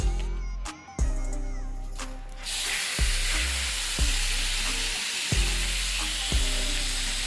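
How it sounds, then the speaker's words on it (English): Steak dropped into a hot pan of melted butter, a sudden loud sizzle starting partway in and holding steady, with hard utensil clacks and a low hum beneath. "Got your butter all melted up. Now you throw that steak down."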